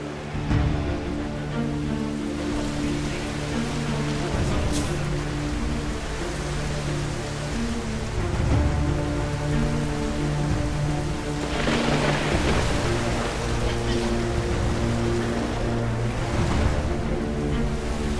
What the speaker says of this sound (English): And on the grid, as predicted, it's a downpour.